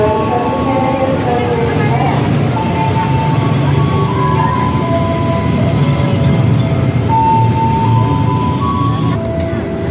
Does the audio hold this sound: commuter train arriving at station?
yes